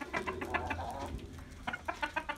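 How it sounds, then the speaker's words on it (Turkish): Chickens and roosters in a farmyard coop cluck in quick, repeated bursts, close by and fairly faint, with pulses growing more regular toward the end. "Arkadaşlar şimdi tavuklarımız ve horozlarımız burada."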